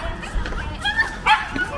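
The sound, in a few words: small dog barking and yipping on a Liverpool street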